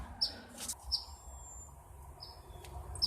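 Baby birds cheep from a nest outdoors in a few short, high, thin chirps spaced across a low background rumble, faint and without voices.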